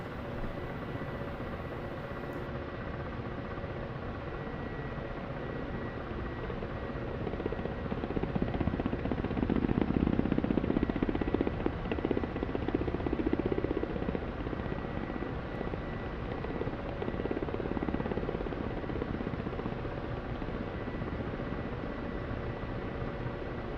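Ka-50 Black Shark helicopter in flight in the DCS combat simulator, a constant rotor and turbine drone that grows louder partway through and continues alone without talk.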